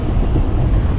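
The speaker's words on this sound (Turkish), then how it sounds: "Rüzgar da hızlı tabii." Steady, loud wind roaring across the microphone with a low rumbling buffet, gusts blowing over open water from a Jeanneau 410 sailboat moving in strong wind.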